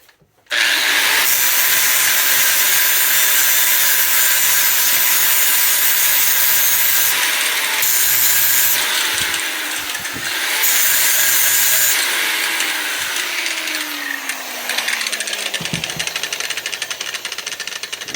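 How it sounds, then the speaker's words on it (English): A grinder strips paint off a steel plate for an engine test stand, one loud, steady, harsh grinding whine that runs almost nonstop for the whole stretch, dipping briefly in pitch and pressure now and then. "I'm going to grind some of the paint off"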